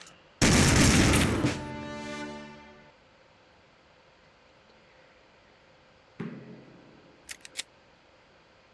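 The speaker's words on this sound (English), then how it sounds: "So next we have the auto shotgun" An auto shotgun fires once loudly in Soldier of Fortune II Unreal Edition, a sharp blast that rings out over about two seconds, followed later by a brief mechanical clack and two small clicks.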